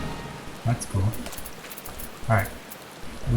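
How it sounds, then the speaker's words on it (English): Rain in the video game Final Fantasy XIV, a steady soft patter under the game's ambience, with a few louder low thumps breaking through. "It's raining."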